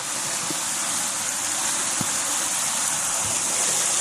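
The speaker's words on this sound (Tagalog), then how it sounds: "Ang lakas ng agos, oh." Strong floodwater rushes past in a steady, loud roar near a flooded pig pen, a continuous broadband wash of current with a few faint knocks underneath.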